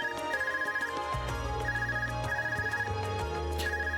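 A phone ringing in the video game Trails of Cold Steel, a melodic ringtone repeating its short tune over about four seconds, steady and clear, with no voices.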